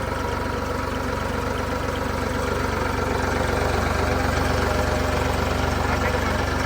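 Ford 3600 tractor diesel engine running on a generator setup, revs raised to a steady, loud, continuous low drone throughout, with voices talking over it.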